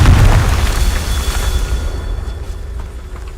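Confringo fire spell exploding in the video game Hogwarts Legacy, a loud low boom with a crackling burst that decays and rumbles away over a few seconds.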